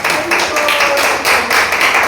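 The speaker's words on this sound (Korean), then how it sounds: "주위에 계신 분들 위해서 한번 박수를 칩시다" A church congregation at a Sunday service claps together, a brief burst of brisk, dense applause, close and loud throughout.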